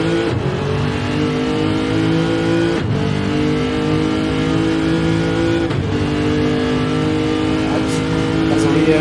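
A race car accelerating flat out on a circuit, its engine droning loud and close in a steady high-revving tone with brief dips at gear changes, under a commentator's continuous talk.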